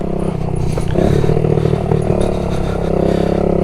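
A Honda Z50R minibike engine buzzes and revs steadily through wheelies, close and loud, with rattling clatter and no voices.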